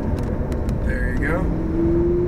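A red Lamborghini drives on a race track at Homestead, its steady engine drone continuous and fairly loud under an instructor's talk and radio chatter.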